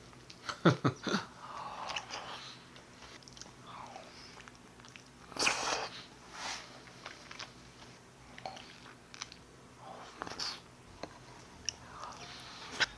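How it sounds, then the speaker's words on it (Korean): Someone eats a soft, ripe persimmon close to the microphone, with quiet wet chewing, lip smacks and occasional soft bursts between moments of silence. "홍시를 한번 먹어보도록 하겠습니다"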